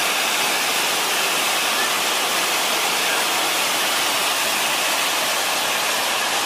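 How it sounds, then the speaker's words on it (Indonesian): Tirta Buana waterfall in Buleleng, Bali, a loud steady broadband roar of falling water heard close up, constant and unbroken throughout with no other sounds standing out. "Kita coba lebih dekat lagi ke air terjun yang di sana."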